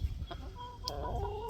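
Chicken clucking in a homestead coop, with short soft clucks and a brief higher note standing out over low background rumble.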